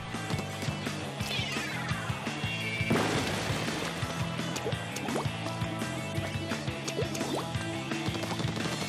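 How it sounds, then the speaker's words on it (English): Ink bombs in the video game Splatoon are thrown and burst with wet, splashy pops. A sweeping splash swells midway, followed by scattered drips and blips over game music. "And throw bombs with R."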